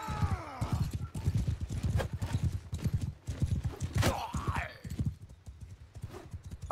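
Horses gallop with steady clip-clop hoofbeats and an occasional whinny in a Mount and Blade 2 Bannerlord battle, loud and continuous throughout.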